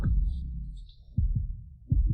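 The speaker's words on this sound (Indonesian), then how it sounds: "Napas panas, detak jantung cepat." Fast heartbeat sound effect in a drama: low, muffled double thumps come in two quick lub-dub pairs over a dull rumbling bed, with no voices.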